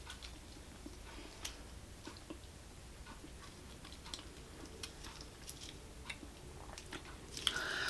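Someone chews Starburst candy and gum close to the mouth, making soft wet chewing and smacking clicks at a loose, irregular rhythm over quiet background, with a slightly louder burst at the end and no talking.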